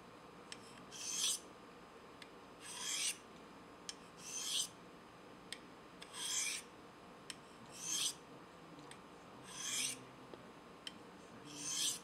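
A knife edge is stroked across a Spyderco Double Stuff ceramic sharpener with very light pressure, making soft, evenly spaced raspy scrapes about every two seconds, with faint ticks in between, close and quiet.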